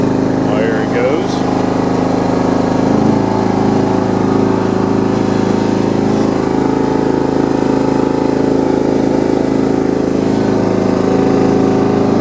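A John Deere 170 lawn tractor engine runs steadily and fairly loud close by, a continuous small-engine drone with a brief higher mechanical squeal near the start.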